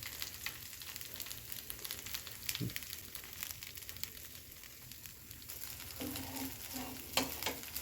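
Rice and potato instant dosa batter sizzles on a hot pan, a steady close crackling hiss that runs throughout with a few brief clinks and scrapes near the end.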